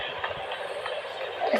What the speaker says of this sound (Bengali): ওই যে সামনে আমাদের ট্রেনটা।